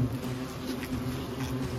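An Asian hornet buzzes steadily and close by, a continuous low droning hum with slight wavering in pitch and no other sounds.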